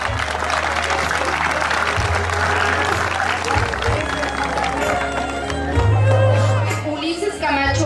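A crowd at a quinceañera applauds loudly and continuously as couples of the court are introduced, with music and a booming low beat running beneath the dense clapping.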